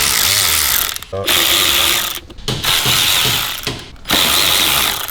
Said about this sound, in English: I like to use a 6mm just because it's easier to put it on a gun